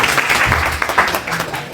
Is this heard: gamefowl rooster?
no